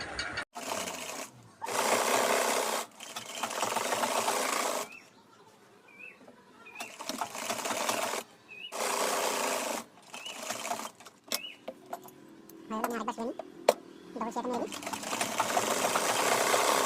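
Sewing machine stitching the sleeve of a churidar top, in several bursts of rapid whirring broken by short pauses, close up, while someone talks in between and birds chirp faintly in the background.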